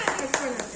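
Three quick hand claps come in an even rhythm, close by, under a person talking.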